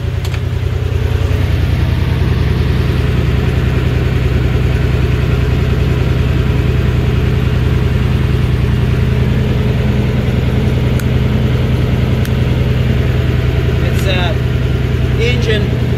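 An old boat launch's engine idling steadily and close, a low continuous rumble throughout with a brief metallic clink near the end and no break in the running.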